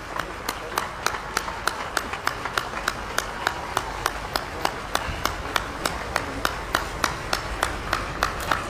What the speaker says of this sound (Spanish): como amigos, como colaboradores, daremos un aplauso